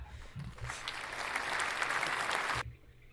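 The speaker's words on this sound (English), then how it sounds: "no clap was necessary there" A burst of hand clapping, like applause, starts abruptly, holds steady for about two seconds, then cuts off.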